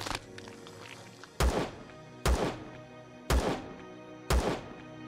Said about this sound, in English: I'm shooting the rock.